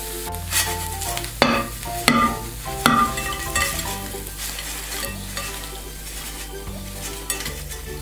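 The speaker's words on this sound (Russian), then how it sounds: "Жарим со второй стороны." Fish frying in a pan, a steady sizzle running throughout with a few louder clinks and stirring knocks near the start, no talking over it.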